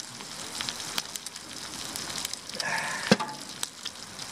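Bacon sizzles steadily in a hot pan, with crackling pops and a few sharper spits, close by and alone.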